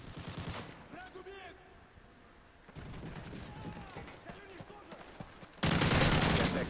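Gunfire in the video game Call of Duty MW3, bursts of rapid shots and booming fire that come and go, loudest at the end, mixed with game sounds.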